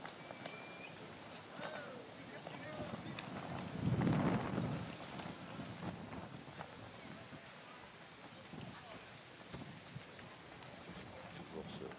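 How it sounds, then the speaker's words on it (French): Gusty wind buffets the microphone outdoors during a pétanque semi-final match in Romans-sur-Isère, with a loud low rumbling gust swelling near the middle over a steady breezy background. "Toujours ce vent là par rafale qui fait un petit peu hésiter"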